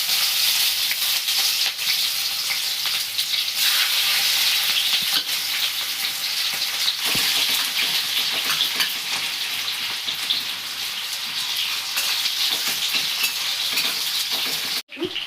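Chopped onions frying in hot oil while being stirred, a loud, close, continuous sizzle with scraping stir strokes throughout, ending in a sudden sharp clatter.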